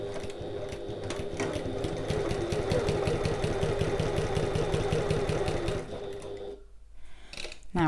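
A sewing machine stitches at regular stitch length, beginning at a side with a back stitch, its needle ticking in a fast steady rhythm close up for several seconds before stopping.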